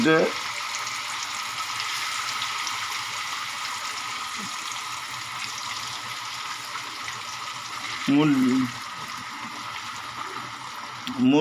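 Chicken pieces sizzle steadily in hot oil in a pan, a continuous close frying hiss with occasional stirring scrapes and brief bursts of a voice.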